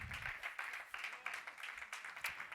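A church congregation claps hands in a steady rhythmic beat, faint and distant, with no talk over it.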